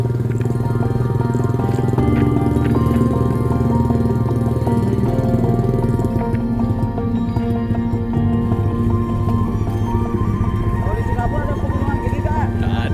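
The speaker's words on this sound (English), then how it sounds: "It was a bit scary riding up the mountain on a motorbike" A motorbike engine drones steadily and loudly throughout, climbing a mountain road to a volcano, with a rough mechanical rumble and ongoing road noise.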